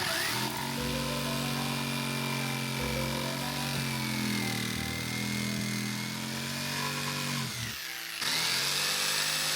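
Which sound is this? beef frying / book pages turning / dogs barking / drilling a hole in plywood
drilling a hole in plywood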